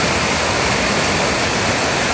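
Floodwater rushes loudly and continuously along a street channel after a night of heavy rain, a dense, steady roar of churning water with no other sounds.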